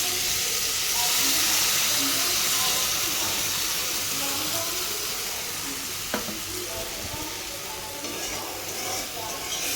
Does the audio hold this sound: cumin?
yes